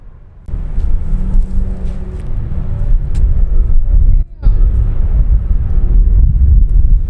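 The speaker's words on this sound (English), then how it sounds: "The wind's so strong." Strong wind buffets the microphone outdoors at a disc golf outing, producing a loud, continuous low rumble with one brief drop partway through.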